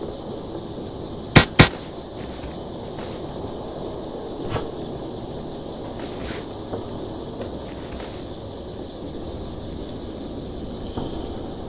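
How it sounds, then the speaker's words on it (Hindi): Two sharp firecracker bursts crack in quick succession near the start, with a fainter pop a few seconds later, against a steady background hiss of an outdoor setting. "चलो दोस्तों इससे क्रैकर लेके आते हैं। सो दोस्तों कौन सा वाला फोड़े?"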